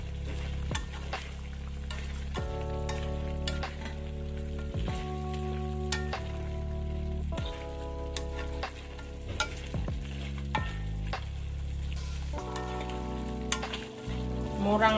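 A home-cooked dish with soy sauce, pepper and a little broth sizzles in a pan while being stirred, a steady frying hiss broken by scraping strokes and clanks of the utensil, with music playing throughout.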